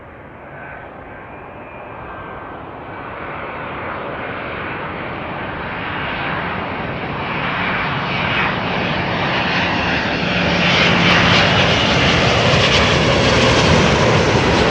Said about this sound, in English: This is a Boeing 777-200ER.